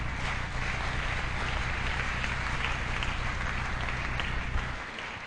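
A church congregation applauding and cheering in praise, a dense, continuous roar of clapping and voices that holds steady for several seconds and fades slightly at the end.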